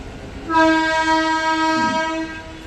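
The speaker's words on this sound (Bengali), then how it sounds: "চলুন, ট্রেন আবার ছেড়ে দিয়েছে।" A Kolkata suburban local train on the Dumdum Cantt to Barasat line sounds a long, loud horn blast that holds steady for about two seconds over low rumbling, then cuts off.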